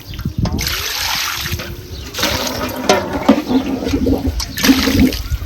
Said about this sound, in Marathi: आता ही एका पाण्याने आपली धुवायची भाजी